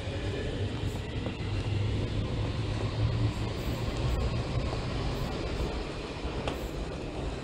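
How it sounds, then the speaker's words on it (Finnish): A Helsinki M200 metro train departs from Itäkeskus station, a steady broad rumble and rolling rail noise with faint clicks, moderately loud and continuous, no voices. "Tuolla juuri M200 lähtee."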